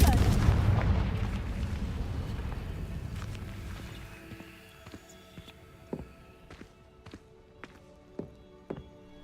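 A Confringo blasting spell in the video game Hogwarts Legacy opens with a loud booming burst that decays over a few seconds, followed by sparse sharp taps and small impacts.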